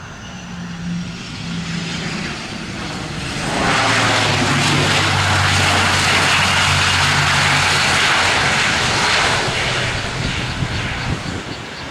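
An Air Cambodia ATR72-600 turboprop lands on runway 07L at Tan Son Nhat, a steady engine drone swelling into a loud, broad roar that holds for several seconds before easing slightly, with no talk.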